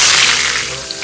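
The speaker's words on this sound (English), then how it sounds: "Give it a quick stir." Beef with coconut gets a quick stir in a hot pan, a loud, dense hiss and scrape lasting barely a second and fading slightly at the end.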